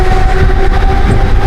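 A Mumbai local train rumbles loudly at a station, a dense steady roar of wheels and carriages with a sustained tonal hum, close and continuous for a brief moment, no voices.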